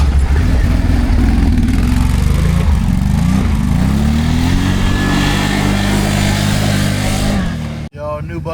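A 2022 Can-Am Outlander 570 MAX ATV engine drones loud and close, its pitch climbing and dipping as it accelerates, before cutting off abruptly near the end, leaving a quieter rumble.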